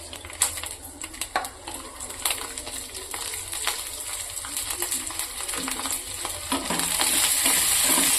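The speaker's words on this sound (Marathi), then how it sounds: "लसूणला थोडे फ्राय होऊ द्यायचे आहे आपण।" Garlic fries in oil for a chutney, giving a crackling sizzle that sits under scattered spatula taps and clinks. The frying grows louder and denser near the end.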